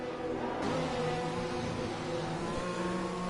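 Formula 1 cars in a video game race at San Marino pull into the pits on soft tyres, a continuous whining engine drone that holds steady with slight shifts in pitch.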